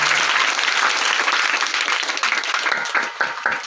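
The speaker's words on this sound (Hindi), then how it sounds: "एक बार जोरदार ताली बजाएंगे।" An audience at a Teachers' Day event bursts into loud, dense applause, many hands clapping close and continuously before it thins into scattered claps at the end.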